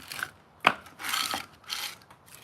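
A file rasps in short, scraping strokes while sharpening a tool outdoors beside a wood fire, three or four close, gritty passes with a sharp knock between them.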